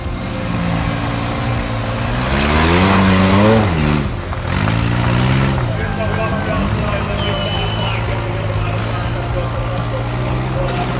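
A toy off-road car gives a close, loud electronic engine-rev effect that rises and falls in pitch over a few seconds, then settles into a steady idle-like hum while a voice talks over it.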